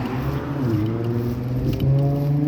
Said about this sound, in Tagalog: Oh, ang ingay ng car mo.